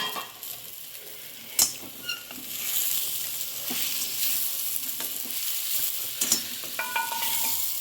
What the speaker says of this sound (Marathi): मी मटार ॲड करायले.